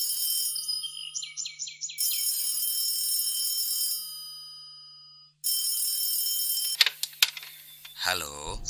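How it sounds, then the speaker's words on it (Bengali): A telephone bell rings in repeated trilling bursts, a radio drama effect for a call placed to a deputy commissioner's home, the rings separated by short gaps before the line is picked up with clicks and a voice begins. "গোয়েন্দা বিভাগের ডেপুটি কমিশনারের বাড়িতে ফোন করল।"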